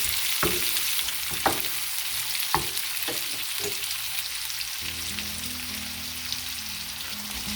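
Chutney ingredients frying in a pan until brown crackle as a constant gentle sizzle, with a few sharp spatula taps early on and a faint low hum entering midway.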